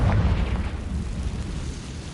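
A Confringo blasting spell explodes in the Hogwarts Legacy video game: a loud, close, rumbling boom that rolls and slowly fades over about two seconds, with no voices.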